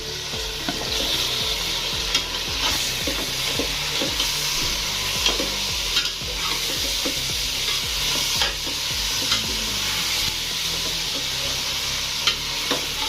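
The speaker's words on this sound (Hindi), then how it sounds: "ये हमारा चिकन अब भून चुका है" Boiled chicken frying with garam masala and black pepper in a large pot for chicken pulao, a steady crackling sizzle with rhythmic scraping strokes of a ladle throughout.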